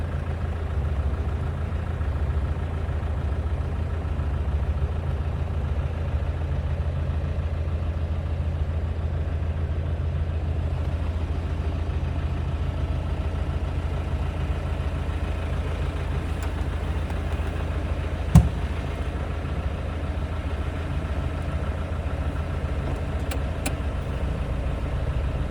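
A Land Rover 110 with a 300Tdi diesel and five-speed gearbox idles steadily after a cold start, a continuous low rumble close by with one brief sharp click partway through.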